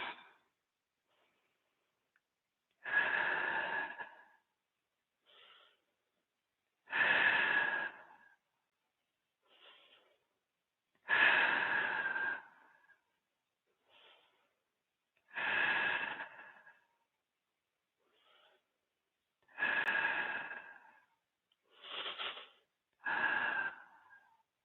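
Slow, deep breathing during a power yoga session: about seven long inhale-exhale rushes spaced a few seconds apart, close and clear, with faint softer breaths between them and no talking.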